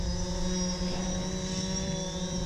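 Electric motors of a drone climbing in a spiral, a steady buzzing whine with layered harmonic tones that shift slightly as the throttle increases, moderately close and without talk.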